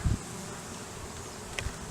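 Honey bees buzz on a hive frame during a March varroa mite check, a dense continuous hum close by with a couple of louder bumps near the start and end, no talking.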